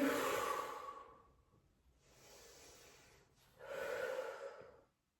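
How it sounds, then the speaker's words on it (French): Three exaggerated breaths during a standing Pilates exercise against a wall: a loud, long exhale, then a softer inhale, then another strong exhale. Each is breathy and close, with brief quiet gaps between them and no talk. "j'accentue la respiration pour que vous puissiez la suivre."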